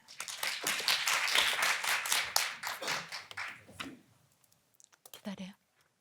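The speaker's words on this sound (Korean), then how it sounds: "큰 박수 부탁드립니다" An audience at a public-sector HRD contest final claps for a presenter, a brisk patter of hands filling the first few seconds before it fades out, leaving a few faint stray sounds.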